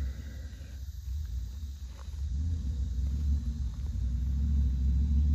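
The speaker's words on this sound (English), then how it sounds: "Oh, big burnout." A steady low rumble builds from an RC rock crawler (Ascent 18 on Injora 1.3" wheels and tires) spinning its muddy tires in a burnout, the motor drone rising toward the end with no talking.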